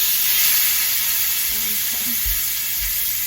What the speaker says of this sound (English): The grill is very hot now, so I'm going to add the steak.